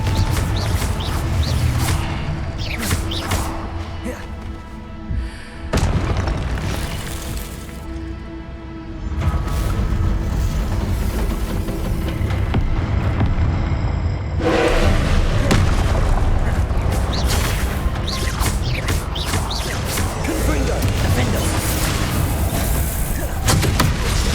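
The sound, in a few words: Confringo explosion spell in a Hogwarts video game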